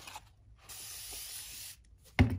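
A spray bottle mists a piece of embroidery fabric in one steady hiss of about a second, close and fairly quiet, followed by a sharp handling clunk.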